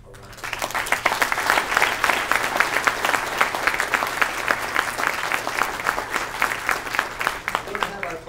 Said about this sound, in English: deserve a round of applause.